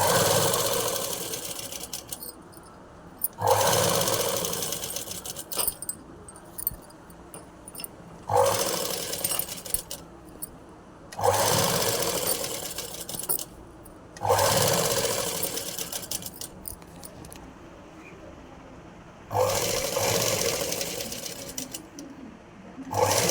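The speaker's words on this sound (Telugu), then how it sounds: "నెక్ పార్ట్కి కూడా స్టిచ్ చేస్తున్నాను" A sewing machine stitches piping onto the neckline of a blouse, running close and loud in repeated bursts of several seconds, each separated by short pauses.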